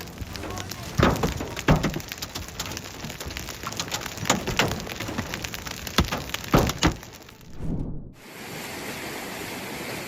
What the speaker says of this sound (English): The sound of hail on rooftops and lawns echoed like thousands of drums